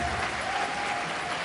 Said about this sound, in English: I say let's give them another big round of applause